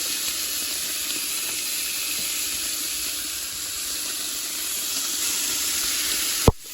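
Bacon frying in a pot for chili gives a continuous, even sizzle of hot grease, moderately loud and steady, ending with a sharp knock at the very end; no one speaks.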